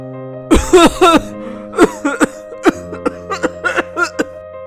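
A man coughs several times in short, rough bursts, close and fairly loud, with a throaty clearing sound between coughs.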